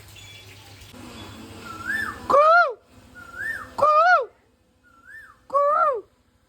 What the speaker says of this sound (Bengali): কুকিলে ডাকছে, আমিও কুকিল একটু চেতাইলাম